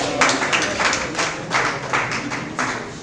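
Seminar audience applause coming in several rhythmic bursts of many hands clapping, fairly loud and close, swelling and fading roughly every half second across about three seconds with no talk over it.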